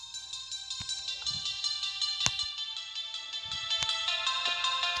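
A Samsung phone ringtone plays near the microphone as a bright melodic chiming tune with a few sharp clicks, over faint low background noise, with no talking.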